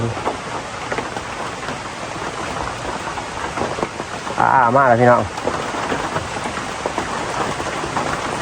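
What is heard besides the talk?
rain falling, with thunder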